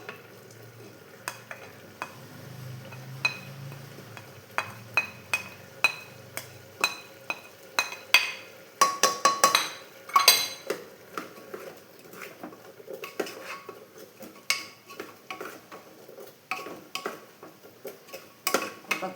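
A spoon stirs grated coconut into kidney bean curry in a pan, with repeated close scraping and clinks against the metal over a faint background sizzle.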